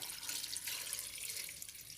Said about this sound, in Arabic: اللارنج حطيته على النار، هضيف عليه مية